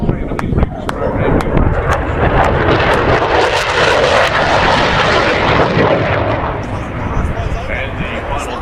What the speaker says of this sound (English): And the final pass by the FA-18 Super Hornet.